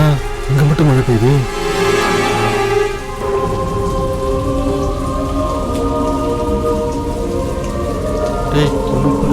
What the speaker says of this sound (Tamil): என்னடா இங்க மட்டும் மழை பெய்யுது?